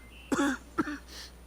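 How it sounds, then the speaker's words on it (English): A game character in Kingdoms of Amalur Re-Reckoning coughs twice in quick succession, close and moderately loud, followed by a softer throat-clearing exhale. "Cover your mouth when you cough."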